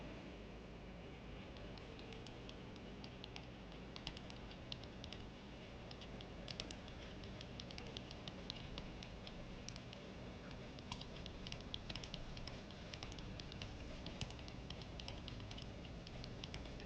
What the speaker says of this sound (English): let me try to type it